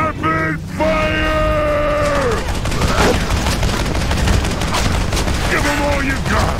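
Rapid gunfire in World of Warcraft during a Grimrail Depot dungeon run: a dense, continuous burst of shots layered over sustained game tones and effects, loud and close throughout.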